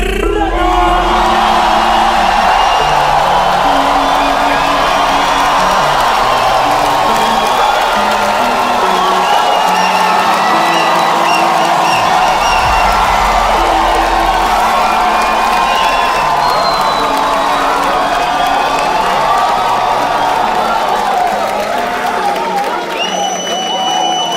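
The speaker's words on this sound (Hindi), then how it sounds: "एक बार जोरदार ताली बजा दो सबके लिए भाई" Loud applause, whoops and cheering from a comedy show audience, a dense sustained crowd roar with shouts rising over it and a voice speaking through.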